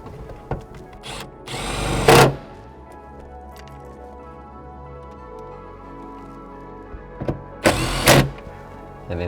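A power tool drives two bolts back into the light housing of a Toyota GR86, with two loud, separate whirring bursts and quieter handling and clicks in between.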